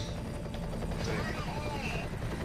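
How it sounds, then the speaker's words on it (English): A steady, droning helicopter rotor chops close by in the video game F.E.A.R., with faint voices in the background. "Is that helicopter for me?"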